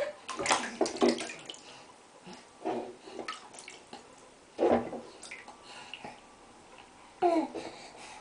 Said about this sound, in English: You splashing the water?